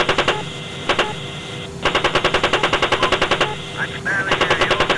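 Rapid bursts of rhythmic automatic gunfire from an AH-64D Apache attack helicopter in the ARMA 3 video game, loud and repeated over a steady radio-like tone, with voices talking over it.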